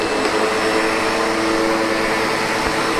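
A SEBO Automatic X7 Boost ePower upright vacuum cleaner runs close by on a pet-hair-covered floor, a loud, steady motor whine and airflow roar with no talking.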